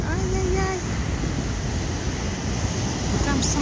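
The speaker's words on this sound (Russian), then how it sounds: "Если у нас тут такие сегодня волны" Sea surf rolls onto the shore on a calm sunny day in Japan as a steady broadband wash, loud and continuous with wind noise on the microphone and a few faint higher tones over it.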